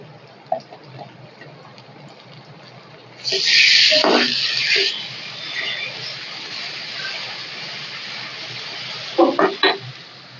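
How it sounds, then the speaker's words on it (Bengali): Ginger garlic paste hits a hot pot of goat meat with a sudden loud sizzle burst that fades over a couple of seconds into a softer hiss, followed by a few brief clinks near the end. "আদা রসুন পেস্ট দিব এখন"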